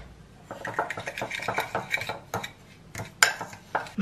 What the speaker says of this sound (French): Je vais mélanger ça à la fourchette